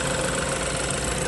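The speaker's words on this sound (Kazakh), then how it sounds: "Көріп тұрғандарыңыздай мотор өте әдемі жұмыс жасап тұр" A car engine idles smoothly and steadily, a close, even mechanical hum with no misfires, pauses or talk.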